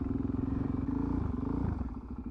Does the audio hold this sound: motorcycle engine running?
yes